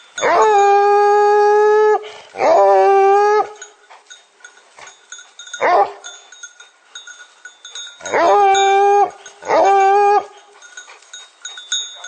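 Hunting dogs bay at a wild boar during a hunt, sending out long drawn-out howls and shorter yelps in repeated loud bursts with quiet gaps between them, close and clear, with no talk.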